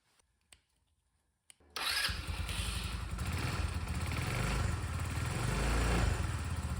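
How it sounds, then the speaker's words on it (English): A 150cc GY6 Chinese scooter engine on a 2014 Tao Tao BWS catches after a couple of faint clicks and settles into a steady, loud, close running rumble that builds slightly toward the end. "The scooter runs."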